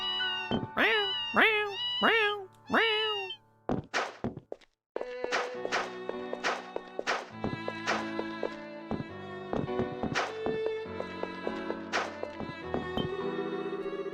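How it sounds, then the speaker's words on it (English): A cat meows in the Ys Seven video game, several short distinct meows close together near the start, followed by game music and sound effects. "No, it's a cat."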